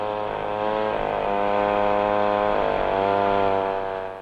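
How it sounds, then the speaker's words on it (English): Timber being processed at an Alaska lumber mill, with a steady, loud whining saw drone that rises and falls slightly in pitch as it cuts, continuous throughout with no talk. "The lumber mills operate the year round."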